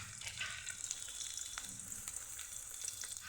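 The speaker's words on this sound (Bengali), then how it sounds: "এখন এর মধ্যে কেটে রাখা পেঁয়াজ কুচি দিয়ে দিচ্ছি" Chopped onion fries in hot oil for a Bengali dried-fish and taro-stem curry, a steady close crackling sizzle with small pops throughout and no voices.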